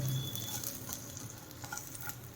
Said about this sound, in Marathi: काजू बदाम आहे याला मी कट करून घेतलेलं आहे ते आता याच्यात टाकून याला थोडंसं घ्यायचं आहे फ्राय करून घेत आहे